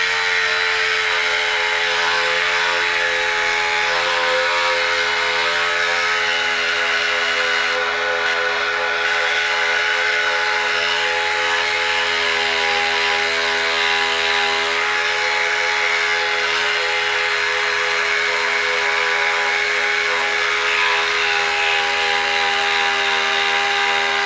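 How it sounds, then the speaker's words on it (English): Dual-action sander running with 220-grit paper on a car headlight lens, a steady, loud motor whine with abrasive hiss that holds unbroken throughout. "We're going to sand until the numbers disappear."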